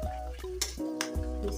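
Spring onions are stirred in a hot pan, sizzling quietly while a utensil scrapes and clinks against the metal in a few short strokes.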